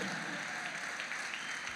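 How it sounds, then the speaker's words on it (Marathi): Audience clapping at a Marathi association convention in San Jose, a dense, even wash of applause from a large crowd, steady and fairly loud for the whole moment. "याच्यासाठी तरी टाळ्या वाजवाच माझ्यासाठी"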